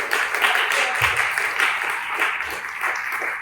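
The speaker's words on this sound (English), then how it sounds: "let's give a round of applause" A keynote audience at a talk on vision loss gives a steady, moderately distant round of applause, a soft continuous wash of clapping lasting several seconds.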